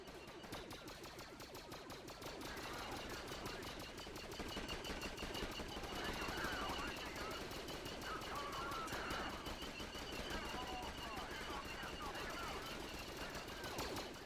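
Dense, continuous gunfire from a Garry's Mod battle between droids and clones, rapid automatic bursts layered with scattered shots throughout, steady and loud with a busy mix of combat noise.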